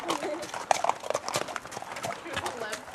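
Horse hooves clip-clop faintly on the ground during a rainy ride, irregular steps beneath steady rain noise while a person talks nearby.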